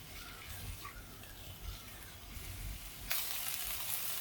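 Cauliflower and potato sauté in a pan over a medium flame, a low, soft sizzle that swells sharply louder partway through, with no talking.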